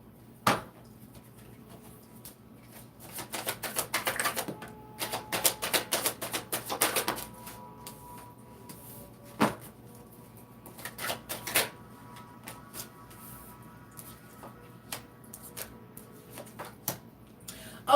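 Tarot cards are shuffled by hand in a quiet room: rapid riffling clicks in bursts, irregular taps and soft slaps of cards, fairly close and faint.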